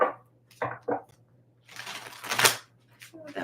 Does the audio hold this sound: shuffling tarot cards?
yes